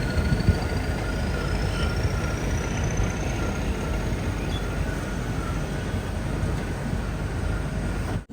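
Crowded Kolkata local train rumbling past steadily and close, a continuous loud roar of wheels and cars with a faint rising whine, no voices.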